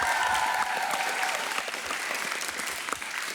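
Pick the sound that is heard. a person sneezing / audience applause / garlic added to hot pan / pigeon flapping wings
audience applause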